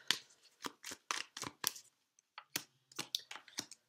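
Tarot cards being shuffled by hand in quick, crisp riffling bursts, about a dozen short clattering strokes with a brief pause midway, close and fairly quiet with no talking.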